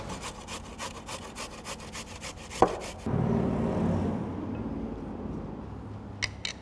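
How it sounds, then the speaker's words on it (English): A carrot rubbed against a grater, rapid rhythmic rasping strokes for about two and a half seconds, then a knock and a duller scraping, with a couple of light clicks near the end. "And then we're just gonna grate the carrot."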